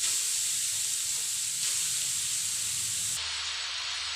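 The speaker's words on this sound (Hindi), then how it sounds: "अब इसे हम कढ़ाई के अंदर 1 चम्मच घी डालेंगे और इसके अंदर जो हमने गाजर को कसा है उसको डालेंगे।" Grated carrots hit hot ghee in a kadai, giving a loud, steady sizzling hiss close up that continues throughout with little change and no talk.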